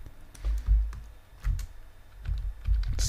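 Fingers tap on a computer keyboard in quick irregular clusters, close and fairly quiet, with a few heavier key presses and no voices.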